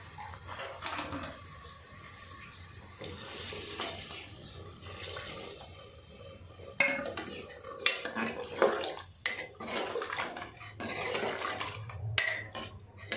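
Water runs and splashes into a metal pressure cooker in bursts, with clinks of cookware in between, while cooking potato and chickpea curry.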